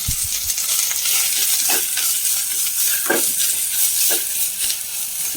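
Onions and grated coconut are stirred in a hot frying pan under a constant close sizzle, with a few distinct spatula scrapes standing out.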